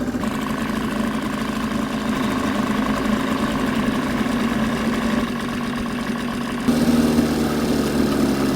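An outboard motor idles steadily and close by, a continuous droning hum that holds an even pitch and then grows slightly louder and rougher near the end, with no speech over it.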